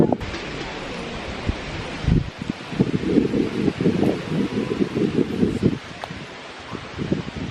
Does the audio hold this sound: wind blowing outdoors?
yes